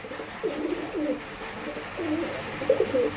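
Giribaz and Madras pigeons coo in a series of soft, rolling calls, four or five short phrases spaced about a second apart against a quiet background, with no talking.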